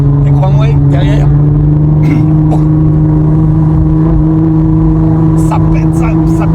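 Sports cars and supercars driving in a convoy on small country roads, a loud sustained engine drone close by with sharp popping bursts, and a person talking over it.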